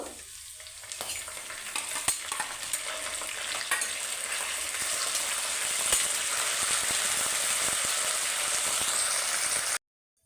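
Curry leaves frying in a pan of hot oil with green chillies for gongura pulihora, a steady close sizzle that swells after the first second and continues without a break.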